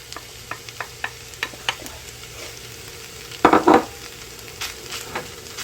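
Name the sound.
stirring and cooking lobster ravioli filling in pan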